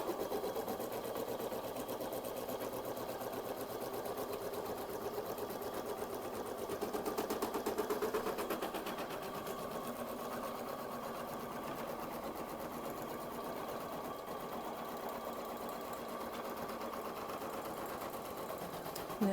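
An embroidery sewing machine stitches an in-the-hoop towel topper through layered fabric, a fast, steady mechanical rattle of the needle running continuously at close range with faint hum underneath.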